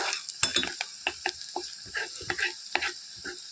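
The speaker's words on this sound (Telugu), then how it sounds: "మనం పప్పుని బాగా ఫ్రై చేయాలండి పచ్చి వాసన రాకుండా ఫ్రై చేసుకోవాలి పప్పుని" Lentils for a dal with tender green chillies sizzle and rattle in a hot pan while being stirred, with short scraping bursts in an uneven rhythm.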